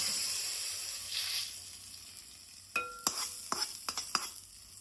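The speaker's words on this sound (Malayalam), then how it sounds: "കറിവേപ്പില ഇട്ട് കൊടുക്കുക ഇത് നമുക്ക് ഇതിലേക്ക് ചേർത്ത്" Curry leaves dropped into hot oil for tomato chutney, a soft hiss that gives way to a run of sharp crackling pops and spits close by, with no speech.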